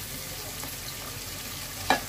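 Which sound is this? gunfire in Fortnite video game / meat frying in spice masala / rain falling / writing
meat frying in spice masala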